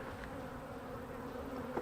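Honey bees from a tiny relocated swarm hum steadily around a hive, a soft continuous buzz that stays faint and even throughout.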